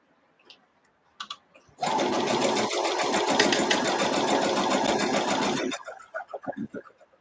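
A sewing machine stitches quilt pieces for a London Roads variation, starting after a few soft clicks with a loud, steady whirring run of about four seconds, then stopping into scattered handling sounds.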